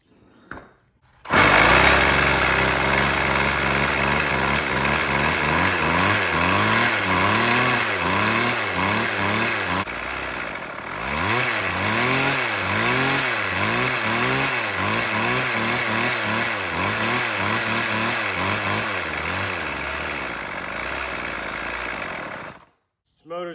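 A two-stroke weed eater engine fires up and runs roughly after gas is poured into it, revving and surging with a choppy, uneven note for about twenty seconds before cutting off abruptly.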